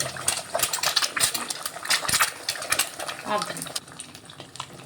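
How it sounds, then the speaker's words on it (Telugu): Egg frying in hot oil in a pan for egg noodles: a close crackling sizzle with clinks and scrapes of a utensil stirring, loud and busy throughout. "ఇప్పుడు ఇందులో మనము ఎగ్ వేసుకుందాం. ఎగ్ కొంచెం ఫ్రై అవ్వాలి."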